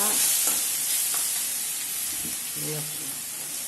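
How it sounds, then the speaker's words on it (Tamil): Okra stir-fry (vendakkai poriyal) stirred in a pan: a short burst of close, steady sizzling hiss with a few soft scraping strokes and faint voice murmurs underneath. "இது மாதிரி மறுபடியும் நல்லா கிளறி விட்டுக்கோங்க."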